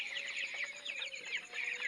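Baby chickens cheep in rapid, high overlapping peeps, a steady chorus of several chicks close by with no talking.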